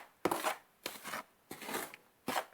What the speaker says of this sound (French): Là, je mélange un peu. Donc moi, je le fais à la cuillère parce que pour éviter de me salir les mains.